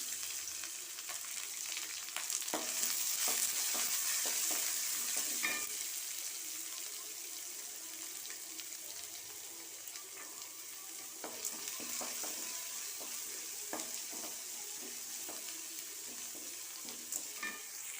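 Steady sizzling and crackling of onions and green chilies frying in hot oil, with occasional stirring scrapes and clinks throughout.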